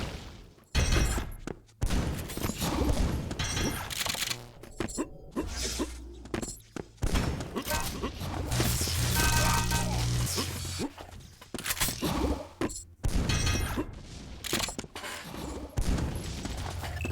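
Repeated rocket launcher blasts in a Quake-style duel game, loud and close, come in quick bursts with explosions and shattering impacts as a commentator talks over the action.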